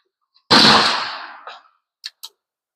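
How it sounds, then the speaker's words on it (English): A single loud, sharp shot from a hunting rifle with iron sights, fired at a target while zeroing, its boom decaying over about a second, followed by a brief thump and two small metallic clicks. "I'm going to go ahead and lock that down and then fire around"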